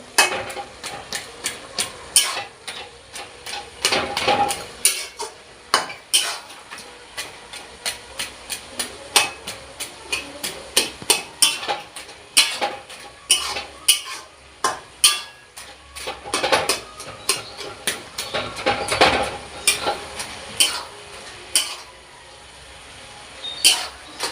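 A spoon scraping and knocking against a pan while stirring banana-flower (mocha) ghonto, repeated sharp clinks and scrapes in an irregular rhythm, close and fairly loud, with no talk.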